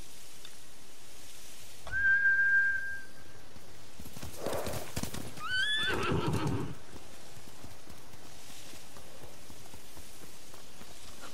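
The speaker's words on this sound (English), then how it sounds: "Bastards scared off the horses." In the Ghost of Tsushima video game, a horse gives a loud, high neigh amid clip-clop hoofbeats, following a sharp whistle, against a quiet background.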